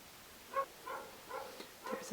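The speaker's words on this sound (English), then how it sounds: "There's a dog barking across the road for hours" A dog barks across the road, four or five spaced, faint, distant barks in an uneven rhythm over quiet background.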